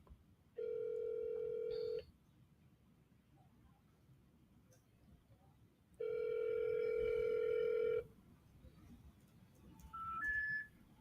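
An outgoing telephone call ringing back, two long burbling ring tones several seconds apart over faint background noise, followed by a short rising beep.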